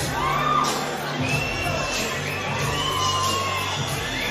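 Spectators at a women's boxing bout between Jazzy Parr and Brianna Harrison cheer and whoop after the fight, a loud sustained roar with whistles and shouts rising over it.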